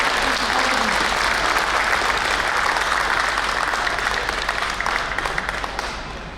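Sustained audience applause at an inauguration event for Nandan GSE, a dense wash of clapping hands from a crowd that holds steady and tapers slightly at the end.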